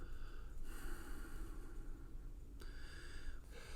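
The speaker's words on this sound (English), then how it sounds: "Release the belly and exhale." Forceful breath exhales during pranayama practice, a few close, airy nasal bursts with short pauses between them, quiet and alone.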